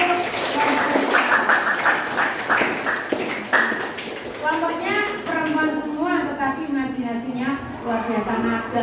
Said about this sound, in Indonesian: Tepuk tangan untuk kelompoknya perempuan semua.